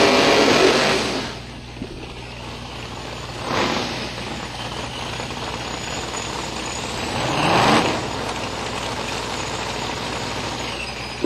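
An '88 Mustang drag car rumbles and idles at a drag strip. The engine is heard from a distance, with a steady low drone and a few swelling revs and hisses, and no talk.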